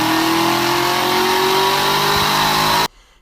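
A 2017 Camaro ZL1 V8 roars at sustained high revs on a dyno, loud and close with a rising whine, then cuts off abruptly into near silence.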